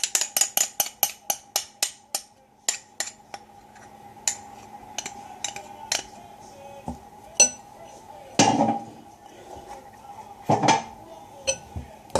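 Eggs and peanut butter mixed in a bowl for a hamster seed treat: a quick run of sharp spoon clinks against the dish, then sparser taps and scrapes, close and fairly faint.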